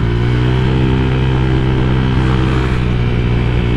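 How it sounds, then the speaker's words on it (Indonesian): Steady, loud exhaust drone from a Honda Vario scooter being ridden, a continuous low engine rumble with no pauses, close to the listener and with no talk over it. "Knalpot berisik banget ini."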